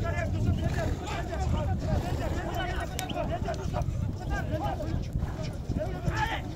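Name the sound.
horses galloping during kok-boru (ulak) horseback game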